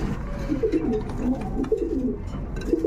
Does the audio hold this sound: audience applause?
no